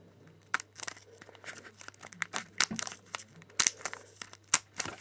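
Crinkling plastic wrapper of a Tekken Card Tournament trading card pack being snipped with scissors and torn in short irregular bursts, close by, with sharp crackles between quieter pauses.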